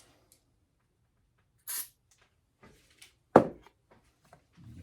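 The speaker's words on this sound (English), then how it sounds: "Okay, we'll give her a little spray." One brief, quiet hiss from an aerosol can spraying lubricant onto a broken bolt while it is being drilled out for an easy out, followed by a few faint handling clicks and knocks in near silence.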